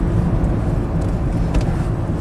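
A damaged Volvo turbo engine with harm to cylinder one runs close by, a steady low rumbling drone with even, continuous loudness and no speech.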